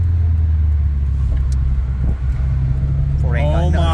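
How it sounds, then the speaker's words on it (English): Inside a 2015 Subaru WRX with coilovers during a rev-matched downshift, a steady low engine drone and road rumble with a brief blip mid-clip, a voice breaking in near the end. "Ooh, nice downshift."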